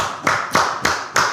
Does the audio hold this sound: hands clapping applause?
yes